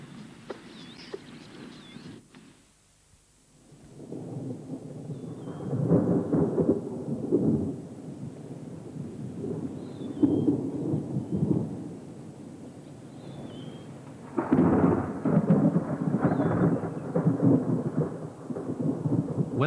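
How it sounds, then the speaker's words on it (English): A Serengeti thunderstorm with low rolling thunder rumbling in long waves beneath a steady wash of rain, with occasional faint bird calls above it. "When the rains break, the harsh blue sky of the dry season gives way to towering banks of thunderclouds"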